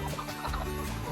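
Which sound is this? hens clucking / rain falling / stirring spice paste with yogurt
hens clucking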